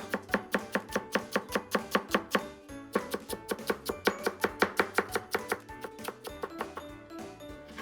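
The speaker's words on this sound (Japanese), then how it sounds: "千切りにしてからここにしてみじん切り。" A knife minces vegetables on a cutting board in a fast, steady run of sharp, close chops, with a brief pause before the rapid rhythm resumes.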